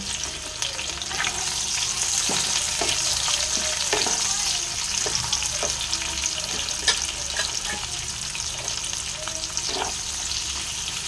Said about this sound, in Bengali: এবারে আমি পেঁয়াজগুলো একদম লাল লাল বেরেস্তার মতন ফ্রাই করে নেব।